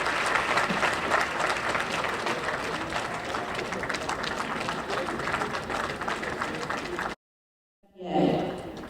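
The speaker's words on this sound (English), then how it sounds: "Are you tired of clapping?" Sustained audience applause at an 87th birthday celebration in Abuja, a dense wash of clapping for about seven seconds before cutting off, followed by a brief burst of crowd noise.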